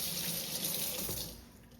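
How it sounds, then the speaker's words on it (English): A tap runs steadily into a sink as hands are washed before cooking steak and salmon, a continuous close splashing hiss that softens slightly toward the end. "So, I'm going to be washing my hands."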